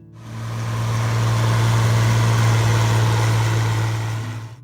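A White 2-105 farm tractor from the 1970s runs steadily, a loud, close diesel drone with a strong low hum that swells in and holds even throughout.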